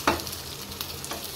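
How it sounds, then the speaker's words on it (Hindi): Tadka spices sizzle as they fry in hot oil, a sharp burst of crackling at the start easing into a steady hiss with small pops, close and fairly loud, no talking. "अपना तड़का रेडी है, बट जो ये साउंड आती है ना इसको इसके अंदर डालते टाइम"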